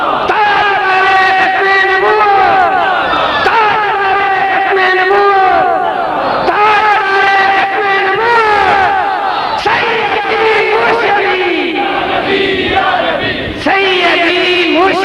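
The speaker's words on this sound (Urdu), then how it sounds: "ختم النبوت کے نعرے لگ رہے ہیں۔" A large crowd at a Khatm-e-Nabuwat religious conference chants slogans in loud, sustained, rising and falling voices for the whole stretch, with little break between calls.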